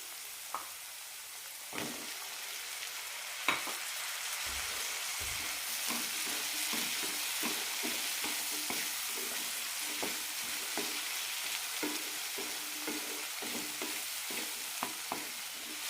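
Brinjal pieces frying in a chili, coriander and turmeric masala, a steady close sizzle with occasional scraping stirs and light taps from a spoon against the pan.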